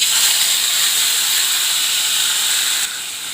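Papaya and panch phoron five-spice fry in hot oil in a pan for papaya chutney, giving a loud, steady, close hiss of sizzling that eases slightly just before the end.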